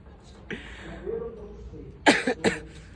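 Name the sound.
cough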